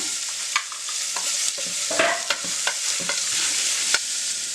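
Sliced onions sizzle in hot oil for a restaurant-style green peas masala curry, a loud steady frying hiss broken by sharp scraping stirs and clicks of a spoon against the pan.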